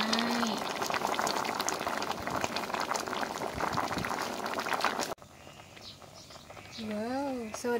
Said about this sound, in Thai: แกงหน่อไม้สดจากกอจ้ะทุกคนใส่เห็ดนางฟ้า